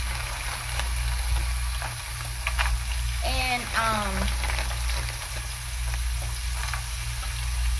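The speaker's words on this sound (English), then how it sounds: "so y'all will hear it sizzle." Peppers and onions sizzle and crackle steadily in hot grapeseed oil, a constant close frying hiss, with a brief spoken word partway through.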